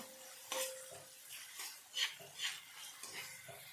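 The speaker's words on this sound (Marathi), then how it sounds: "इथे मंद आचीवरती आपण इथे कांदा छानपैकी फ्राय करून घ्यायचा आहे आपल्याला" Onion frying on low heat in a pan while masala pav is made, heard as a soft, steady sizzle broken by a few scraping stirs and light clinks of a utensil against the pan.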